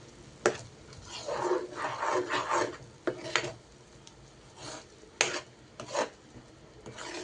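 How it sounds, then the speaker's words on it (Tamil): A thick coconut thiratti sweet mixture is stirred in a pan over low heat, giving soft rubbing and scraping strokes in irregular bursts, close and fairly quiet, with no talking. "இப்போ இதை நல்லா கிண்டிக்கலாம். சிம்மிலே வச்சு கிண்டிக்கலாம்."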